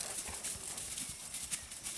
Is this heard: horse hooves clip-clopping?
yes